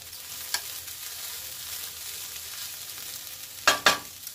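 Onions and peppers fry in a pan with a steady sizzle, broken by a couple of louder stirring clatters near the end, no voices.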